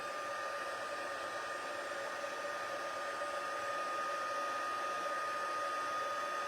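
Heat gun used to melt embossing powder for crafting, a steady whirring blower hum with airy hiss, constant and close with no talking.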